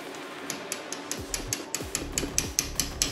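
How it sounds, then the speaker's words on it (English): Hammer striking a punch to tap out the wrist pin of a Yamaha Moto 4 four-stroke ATV engine, a run of about a dozen sharp metallic taps that speed up and grow louder, close and with no talking. "I'm gonna get a hammer and a punch and start tapping this pin out"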